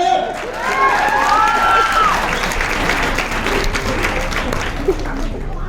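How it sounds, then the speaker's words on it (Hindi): Loud, sustained applause from a large seminar audience at a business presentation, thick and even from start to finish, with a few voices briefly calling out over the clapping early on. "जोरदार तालियां होता है"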